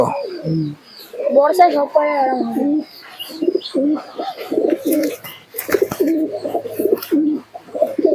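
Giribaz pigeons coo in soft, repeated calls close by, mixed with people talking.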